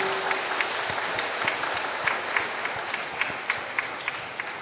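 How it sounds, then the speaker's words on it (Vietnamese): A parish assembly breaks into a big round of applause to welcome and thank a priest, dense hand-clapping spread across a large crowd with sharper individual claps popping out, steady and sustained throughout. "xin được nổ một tràng pháo tay thật lớn nữa để chào mừng và cảm ơn cha"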